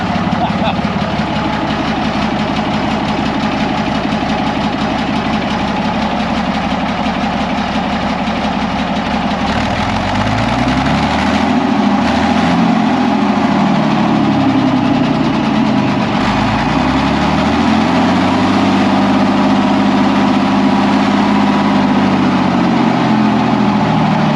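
A Karrier K6 WW2 lorry's diesel engine, started from cold, rumbles loudly and steadily at idle and then revs repeatedly in rising and falling surges, heard up close at the exhaust.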